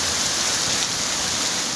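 Steady, dense rain falling continuously during prolonged wet weather, a loud even hiss with no pauses and no voices.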